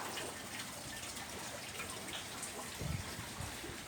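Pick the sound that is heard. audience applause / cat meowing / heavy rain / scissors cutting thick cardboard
heavy rain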